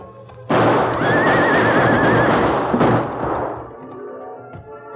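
A horse in an old Lone Ranger western radio drama lets out a loud, drawn-out neigh that rises and trails off, with a shot-like burst and fading hoofbeats afterward.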